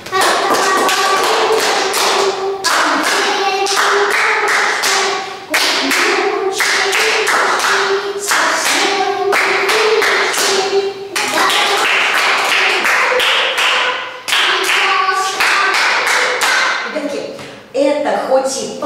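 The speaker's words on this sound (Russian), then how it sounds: "Приготовили ладошки, поем слова и хлопаем все-все-все нотки." Students in a music theory lesson clap the rhythm of notes while singing the words, steady sharp claps running under continuous group singing throughout.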